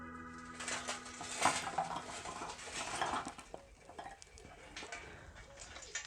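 Extra coals added to a Weber grill at a picanha steak braai, scattered clinks and clatters of coals and metal, a sharp knock midway, fairly soft with faint background sounds.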